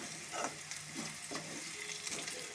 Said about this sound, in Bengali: আদা দিয়ে একটুখানি নাড়াচাড়া দেবো, ভাজা ভাজা হয়ে যাবে আদাটা।